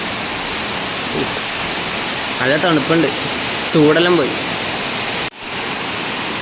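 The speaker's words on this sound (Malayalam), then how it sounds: "ഒടുക്കത്തെ മഴ കേട്ടോ ഗൈസ്" Heavy monsoon rain pours down during a red-alert downpour in northern Kerala, flooding an unpaved yard. It makes a steady, dense broadband roar throughout, with a voice talking briefly over it.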